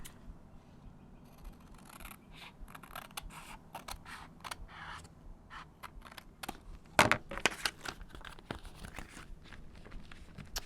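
Scissors snipping paper while assembling a paper bag journal, quiet close crisp cuts and rustles with a few sharper snips near the middle.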